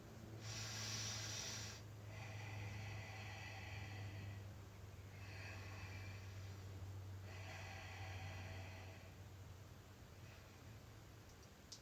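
Slow, deep breaths drawn during a yoga splits class, several audible inhales and exhales spaced a few seconds apart over a steady low hum, close to the microphone with no talking.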